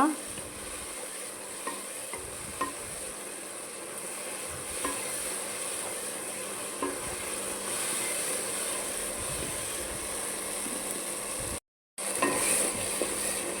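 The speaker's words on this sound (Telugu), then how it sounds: "ఇట్లా వేయంగానే చుక్క కూర మొత్తం అయిపోతుంది చుక్కకూర తొందర ఇదైపోతుంది" Roselle leaves (chukkakura) cook in a hot pan, giving a steady, moderately loud sizzle with occasional stirring scrapes and no talking, cut by a brief gap of silence near the end.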